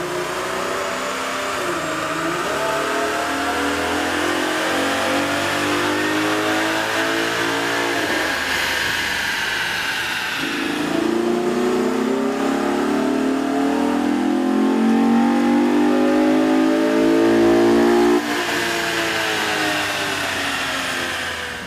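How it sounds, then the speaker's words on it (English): A Chevy Camaro with a 3.6-liter engine and a K&N cold air intake revving on a dyno, a loud, sustained engine roar rising and falling in pitch through several long pulls, with no talk. "we ran the vehicle on the dyno to test sound comparison versus the stock intake."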